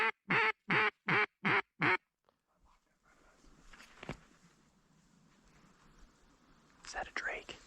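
A drake duck quacks faintly in open wetland during a hunt, a few short calls near the end over a quiet outdoor background, after a quick series of hushed whispered words.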